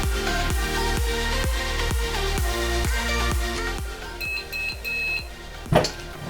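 A heat press timer sounds a short run of bright electronic beeps at the end of a 45-second press for sublimating a dance T-shirt. The beeps are fairly faint and sit under loud, rhythmic background music.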